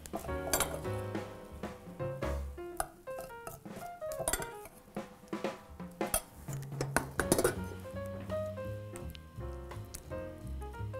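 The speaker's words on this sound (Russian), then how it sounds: "Нам останется только хорошенько перемешать." A spoon repeatedly clinks and scrapes against a bowl while stirring oatmeal with banana and chocolate, a busy run of ringing metallic taps close up with no talking.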